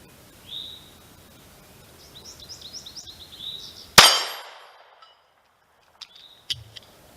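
Single loud metallic clang of a pistol bullet, from a Ruger LC9S or LC9 firing Mk2z ammunition, striking a new steel target, ringing briefly and then decaying. Birds chirp faintly before it and a few lighter clinks follow.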